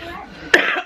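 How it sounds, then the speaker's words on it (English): A single sharp, close cough from a traveler bursts out after a moment of faint voicing and trails off quickly. "Oh dear, I've got such a cough"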